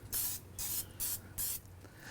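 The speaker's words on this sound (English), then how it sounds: "so just want to spray a layer of that on each surface" Canola oil sprayed onto ribeye steaks before a reverse sear on a Santa Maria grill: four short, crisp hissing bursts in an even rhythm, close by, over a faint low hum.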